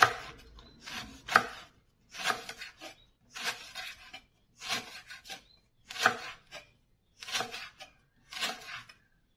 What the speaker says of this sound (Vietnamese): xả thì mình sẽ cắt nó ra như thế này cắt mỏng mỏng nha các bạn cắt xéo như thế này